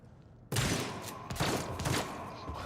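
A firing squad opens fire in a video game, a sudden loud volley of overlapping gunshots that bursts out after a quiet moment, then a second ragged burst trailing off.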